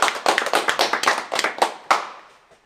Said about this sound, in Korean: 서로에게 박수를.